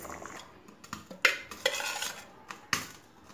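Coconut pieces fry lightly in a pan, stirred with a spoon, giving soft scraping and clinking strokes over a faint sizzle, close and quiet with no voices.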